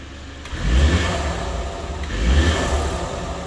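A BMW X3 20 xDrive G45 with a 2.0-litre turbo petrol four-cylinder mild-hybrid engine revs twice in two smooth, quiet swells over a low idle, heard up close.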